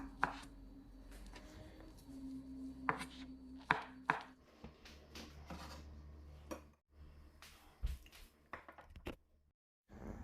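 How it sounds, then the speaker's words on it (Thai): A knife chops soaked, softened dried shiitake mushrooms into pieces on a cutting board in a home kitchen, giving a string of close, irregular chopping taps with faint board and handling noise between them. "แล้วเราก็จะมาหั่นเห็ดหอมแห้งกันนะคะ วันนี้เราเอาไปแช่น้ำให้นิ่มแล้วนะคะ เราก็จะมาหั่นเป็นชิ้น ๆ เลยค่ะ"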